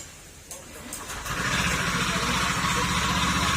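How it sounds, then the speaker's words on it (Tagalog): A small motor scooter engine, run on the wrong oil, starts up and settles into a loud, rough, rattling idle, running steadily up close. "sobrang ingay yung makina"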